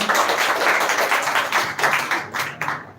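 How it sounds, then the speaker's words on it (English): Listeners at a speech competition grand finale clap for a speaker, a close burst of individual claps that pulses unevenly and tapers off near the end. "Once again, clap for him."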